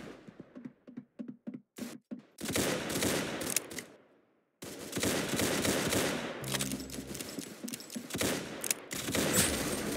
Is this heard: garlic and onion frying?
no